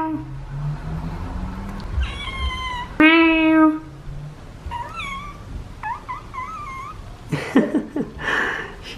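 A cat meowing several times, short rising and falling cries spaced apart, close by, with a human voice speaking around the calls.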